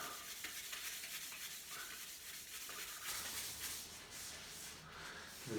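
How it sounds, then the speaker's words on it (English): A dirty, pitted golf shaft being rubbed clean, a steady close scuffing friction sound that goes on without pause and without talk. "Just give it a bit of a rub."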